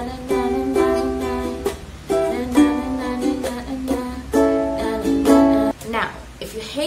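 Ukulele strummed in a down, down, up, choke, down, up pattern for a pop song, the bright chords broken by short muted choke gaps, played close with a voice talking over parts of it.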